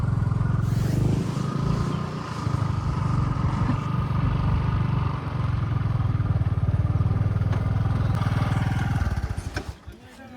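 A motorcycle engine idles and rumbles nearby for several seconds, then cuts off near the end, with a few clatters afterward.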